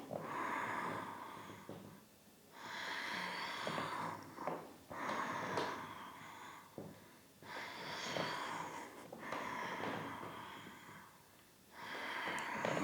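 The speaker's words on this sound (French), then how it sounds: "Expirez, suivez votre respiration." Slow, deep breathing during an evening yin yoga session, with long airy exhales and inhales of a few seconds each, repeating in a steady rhythm close to the microphone.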